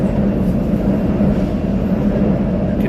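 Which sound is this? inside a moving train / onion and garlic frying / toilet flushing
inside a moving train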